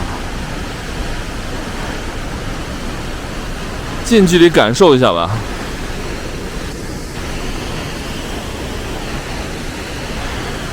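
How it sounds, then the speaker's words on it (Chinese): A constant, loud roar of a very large waterfall beside a mountain road near Gyirong, Tibet, fills the whole clip, with a person briefly speaking over it partway through. "看这个超大的瀑布，这个叫开热瀑布。"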